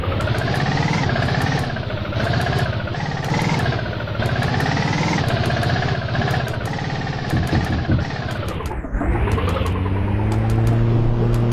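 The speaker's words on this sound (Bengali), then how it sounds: "এই যে সিএনজিটা চালাইতেছে এটা সাউন্ডটা জাস্ট একটু শোনো" A CNG auto-rickshaw's engine runs loud and close, its buzzing drone rising and falling with throttle, dipping briefly near the end before settling into a lower idle.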